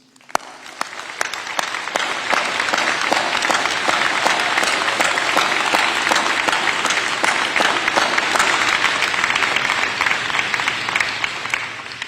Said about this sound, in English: Give a big round of applause to our graduate facing us.